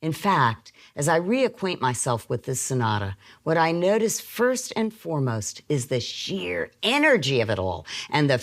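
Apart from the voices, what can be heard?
No distinct noise like a dog, phone or traffic.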